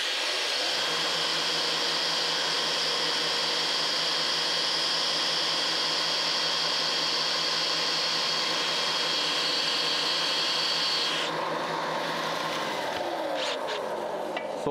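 A grinder sharpens during turbo downpipe welding work, giving a loud, steady, high whine that runs for over ten seconds before cutting off into quieter clatter.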